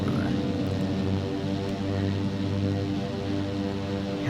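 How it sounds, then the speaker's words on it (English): A propeller airplane flies nearby in Microsoft Flight Simulator 2024 around Zurich, Switzerland, its engine a steady, loud drone with dense harmonic hum holding constant throughout. "No, there's an actual plane over there."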